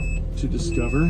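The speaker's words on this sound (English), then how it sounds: "sorry about the car beeping" A car's warning chime beeps steadily as a thin high tone behind someone speaking close up, the alert running continuously under his voice.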